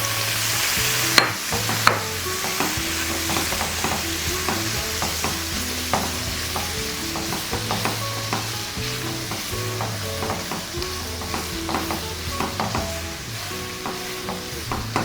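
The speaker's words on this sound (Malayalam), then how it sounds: "അതിലേക്ക് നമുക്ക് 400 ഗ്രാം പനീർ ഇട്ട് കൊടുക്കാം." Paneer cubes, 400 grams, stirred into hot butter masala in a pan, with a steady loud sizzle and frying hiss and repeated scraping knocks of the spoon against the pan, and no talking.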